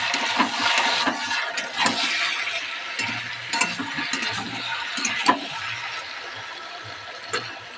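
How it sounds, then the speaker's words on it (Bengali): Boiled papaya and potato stir-fried in spice masala, a soft continuous sizzle with scraping and stirring strokes close by, no talk. "সিদ্ধ করে ওই মশলার মধ্যে দিয়ে দিলাম, দিয়ে ভালো করে কষাতে হবে।"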